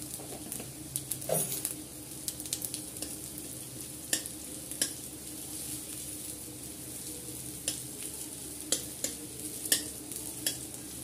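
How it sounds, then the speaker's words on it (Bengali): Dry red chilli and nigella seeds fry in hot oil for a bitter gourd and pumpkin curry, giving a soft continuous sizzle broken by scattered pops and the scrape of a stirring spoon, fairly quiet and close. "দিয়ে দেবো একটা শুকনো লঙ্কা আর দেবো একটু কালো জিরে"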